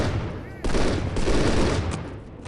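M4 rifle fired in the video game Postal 2, loud rapid bursts of automatic gunfire cracking close by, with a short quieter gap before the volley and a voice briefly audible.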